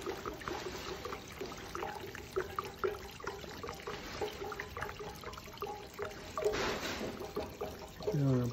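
Old gasoline that sat for ten years being drained from a 1995 Yamaha Virago 250 motorcycle, a steady close trickling and splashing pour with brief louder gushes, no talking.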